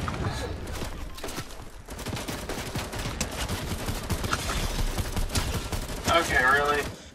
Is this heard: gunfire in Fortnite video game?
yes